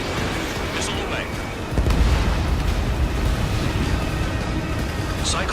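A missile explosion in the Ace Combat 7 flight game hits as a sudden low boom, followed by a sustained rumbling roar under a steady engine drone, with a voice speaking over it.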